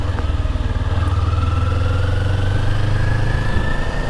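A motorcycle engine runs loud and close, holding a steady throbbing drone with a rising whine, with no voices over it.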